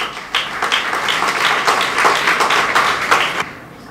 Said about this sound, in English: Please, with a clap, strong clap of you, please help me welcome Mr. Richard Owusu.